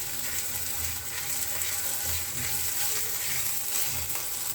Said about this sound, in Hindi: और लास्ट में हम डाल रहे हैं हरी मिर्च। 1 मिनट के लिए इसे हम सॉटे कर लेंगे